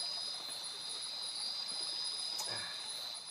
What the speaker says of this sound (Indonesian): dengar suara gemericik air nih pasti enak.